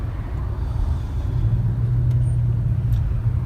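Steady bumper-to-bumper road traffic in Los Angeles rumbles nearby, a continuous low drone of vehicles with no clear breaks.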